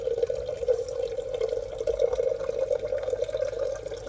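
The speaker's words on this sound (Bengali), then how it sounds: "আবার দেখুন একটু একটু করে জল পড়ছে" A slow thin trickle of water runs from a tap into a pot on a Sundarbans island during a water shortage, a steady narrow splashing stream, close and continuous, with no talk.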